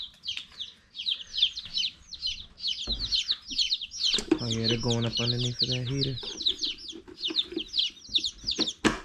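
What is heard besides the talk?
chicks clucking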